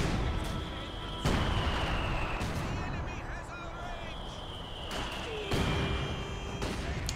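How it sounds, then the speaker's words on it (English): Booming aerial strafing fire rumbles through a Company of Heroes 2 battle, with repeated heavy impacts and bursts spread over several seconds amid dense background battle noise, a whining engine tone drifting across. "Strafe lasts for so long."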